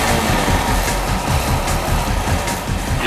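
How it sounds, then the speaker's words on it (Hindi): A recorded motorcycle engine runs in a loud, rough, steady rumble with a clattering texture and no speech. "हम तुम्हें कुछ बाइक्स की आवाजें सुनाएंगे"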